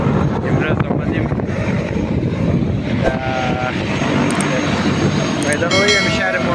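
Helicopter at an outdoor air show, a steady loud rotor and engine roar with wind buffeting the microphone, continuous throughout.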